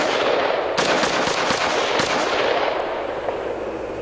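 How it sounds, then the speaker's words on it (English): An AR-15 rifle with a flash suppressor fires full-power .223 ammunition in darkness, a series of sharp, rapid shots crackling over a loud, continuous hissing background. "Let's show it shooting in pitch darkness with the flash suppressor with full power 223 ammunition"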